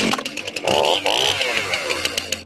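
A chainsaw revs in a political ad, a loud buzzing engine that surges and drops in bursts with no talk over it.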